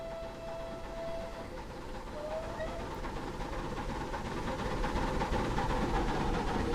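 Merchant Navy steam locomotive with Pullman coaches in a train simulator game, a steady rumbling run with hiss that builds slightly louder as it passes, with a faint whistle-like tone early on.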